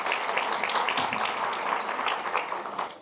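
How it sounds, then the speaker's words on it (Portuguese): An in-person audience at a Rotary lecture event on emotional management in Ribeirão Preto applauding a speaker named Mari, with steady, moderately loud clapping from many hands continuing for the full three seconds. "Uma salva de palmas para a Mari."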